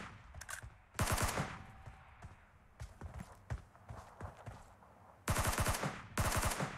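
PUBG/BGMI, played on the BlueStacks emulator, fires rapid bursts of gunfire. Short automatic volleys open and close the stretch, with scattered single shots and lighter clicks between them, and no one speaks.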